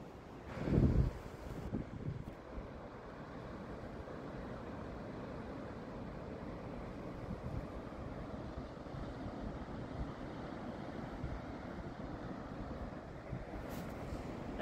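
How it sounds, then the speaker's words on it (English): Steady wind roars across a beach on a blowy easterly day, large rollers surging in beneath it, with a brief bump of handling noise at the start. "Let's go for a stroll down the beach on an easterly blowy day."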